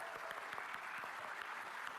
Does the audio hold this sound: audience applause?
yes